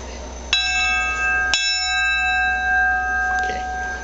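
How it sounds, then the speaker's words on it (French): An old train bell at a railway museum rings with two sharp metallic strikes about a second apart, each leaving a long, sustained ringing tone that slowly fades. "Ça, c'est la cloche."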